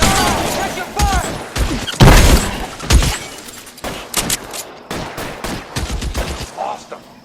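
Rapid bursts of gunfire crack through an L.A. Noire shootout, loud and close, with scattered single shots, volleys and heavy thuds spread unevenly over several seconds, under shouted voices.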